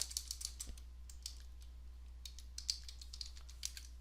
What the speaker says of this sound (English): and I will type the password